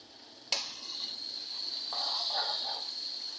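Onions and ginger-garlic paste fry in a pan for mash daal tadka, opening with a sudden loud sizzle burst that settles into a continuous hiss, with a few soft stirring scrapes near the end.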